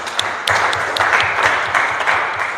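A church congregation applauding the Lord during a Sunday service, with dense, loud, sustained clapping from many hands close around and a few faint voices mixed in.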